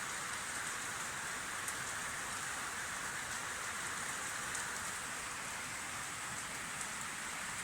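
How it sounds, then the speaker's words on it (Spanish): Steady rain falls in Huancaya, a dense, even hiss of drops on surfaces that continues unbroken at moderate level with no voices. "No, esto es lluvia."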